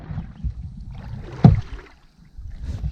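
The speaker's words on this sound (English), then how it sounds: "So we're gonna paddle on down 3 miles to a new area" A canoe is paddled on the Mississippi River, with soft low water swishes and splashes close by, one sharper stroke or knock standing out midway, then a quiet pause before more gentle paddling.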